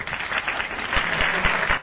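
Audience applause during a live comedic storytelling event, a short burst of dense clapping that holds steady and then cuts off abruptly.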